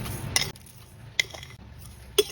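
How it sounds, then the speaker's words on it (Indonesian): Sugar is spooned into a pot while making pudding: three sharp metallic clinks of a spoon against the pot, spaced out over a few seconds, close and clear with no talking. "Lanjut tambahkan 5 sendok makan gula pasir atau sesuai selera."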